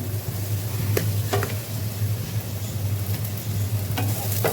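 Onions fry in a pan with a constant close sizzle, a low hum beneath it, and several scraping stirs of a spoon.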